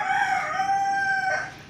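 A Kadaknath rooster crows on a rooftop terrace, one long drawn-out cock-a-doodle-doo, close and clear, fading at the end.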